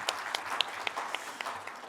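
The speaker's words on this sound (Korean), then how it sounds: "박수를 부탁드립니다." Light applause from a forum audience at a Korean broadcast anniversary event, scattered claps spread across a couple of seconds, fairly faint and thin in the room.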